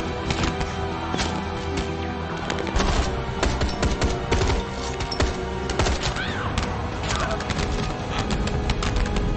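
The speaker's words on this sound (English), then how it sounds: "They're gonna open fire now, you people." Sustained automatic gunfire in the video game State of Mind, dense rapid bursts and volleys firing continuously at close range with hardly a pause, loud and constant throughout.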